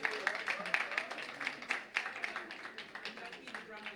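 Audience clapping at a live event, a steady patter of many hands spread across the whole span, with voices mixed in underneath.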